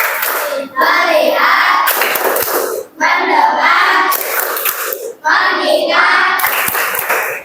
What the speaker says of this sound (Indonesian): Tepuk 1, tepuk 2, tepuk 3, ya, tepuk fokus.